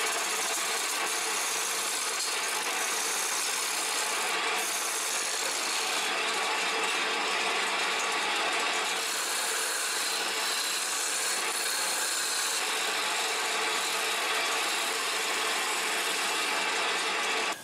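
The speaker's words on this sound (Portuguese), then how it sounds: "Agora eu vou usar o formão do Ramos" A wood lathe spins a wooden plate while a gouge scrapes and shears across it, a steady loud hissing, rasping cut lasting throughout with slight surges, close and without talk.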